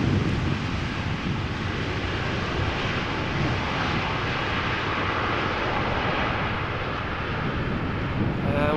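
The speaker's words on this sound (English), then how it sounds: "What I would call a typical KLM landing." KLM airliner landing at Amsterdam Schiphol, a continuous loud broadband engine roar with some wind rush, close and steady from start to finish.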